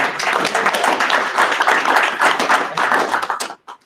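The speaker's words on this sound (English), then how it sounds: "a great round of applause" Loud, dense applause at a county board meeting during a Public Health Week proclamation, a steady wash of clapping that stops abruptly near the end.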